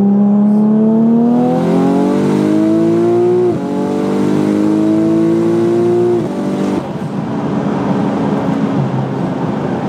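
A Porsche 991.2 Turbo S accelerates hard in third gear, heard from inside the car. The engine note climbs loudly and strongly, with brief dips at each shift, and ends in a rushing roar.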